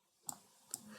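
Two quiet, crisp computer mouse clicks about half a second apart, heard alone in a calm room while drawing shapes in Geogebra.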